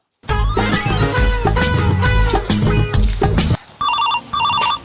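Loud music plays, then cuts off and a phone ringtone chirps in two quick repeated bursts near the end.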